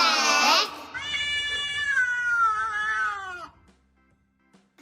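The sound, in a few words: cat meowing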